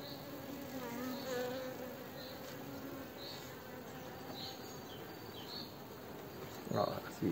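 Honey bees drone steadily in a queen-rearing nucleus hive being checked, a close continuous buzz with a faint voice and a short handling rustle near the end.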